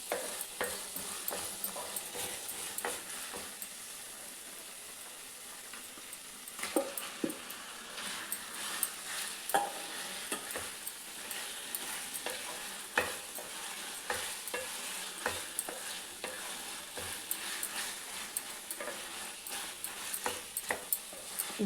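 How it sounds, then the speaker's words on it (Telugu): Sea prawns fry in a pan with ginger garlic paste for a curry, giving a constant soft sizzle broken by repeated sharp clicks and scrapes as they are stirred. "ఇప్పుడు మనం ప్రాన్స్ని యాడ్ చేసుకుందాం."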